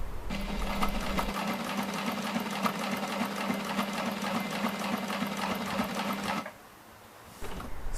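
Close and loud, a sewing machine stitches leather at a fast, even rhythm for about six seconds, then halts, leaving a quieter hum before a brief rise near the end.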